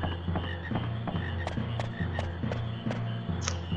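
Frogs croak in a swamp in Final Fantasy IX, a steady low drone under repeated short clicky calls at a regular rhythm, with a constant layered background of game ambience.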